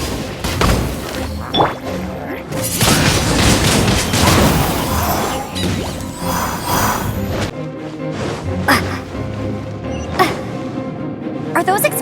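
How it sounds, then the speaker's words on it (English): Explosive Puppet Baron Bunny blowing up in Genshin Impact, a loud, drawn-out blast with crashing and rumbling debris, followed by scattered sharp impacts and mechanical clatter. "Well, good thing I prepared my secret weapon, Explosive Puppet Baron Bunny!"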